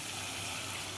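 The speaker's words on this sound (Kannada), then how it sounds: "ಈಗ ನೀರು ಹಾಕಿ" Water pours steadily into a cooking pot of bitter gourd curry, a continuous broadband gush that fills the whole second at moderate, even loudness with no speech.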